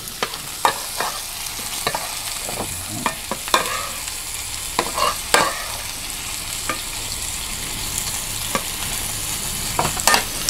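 Food sizzling gently in a pan, a steady close frying hiss broken by scattered sharp clicks and scraping stirs, with no talk.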